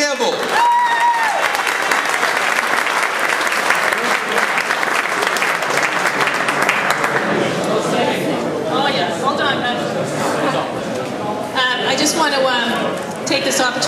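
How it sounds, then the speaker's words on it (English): A room of supporters at a 2010 political gathering breaks into loud, sustained applause, the clapping mixed with cheers and excited crowd chatter that grows more vocal toward the end. "Let's give a big round of applause to Linda Dean Campbell."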